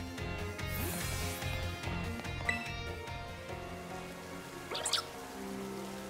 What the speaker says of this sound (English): Of course it started raining on me.